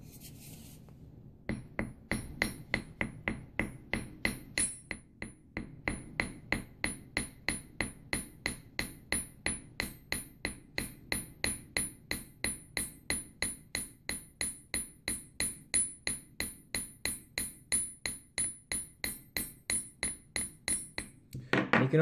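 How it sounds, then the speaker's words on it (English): Steady, evenly spaced hammer blows strike wire being straightened for a caterpillar track coil, a long run of sharp metallic taps with a bright ringing edge, close and alone. "just keep hammering in those spots until it looks nice and straight"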